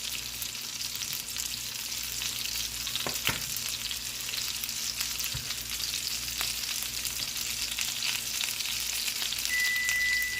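Pork chops fry in a pan with a steady, close crackling sizzle, broken by a couple of brief utensil clinks.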